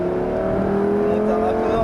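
A Lamborghini revs up on a track-driving course at Trappes, its engine note steady and loud close by, with an instructor's voice talking over it in French throughout.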